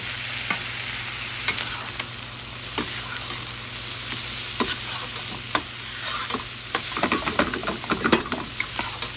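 Thai-inspired fried rice being tossed and stirred in a hot pan, a steady close sizzle broken by repeated scraping clicks of the utensil, busier toward the end, with no talk.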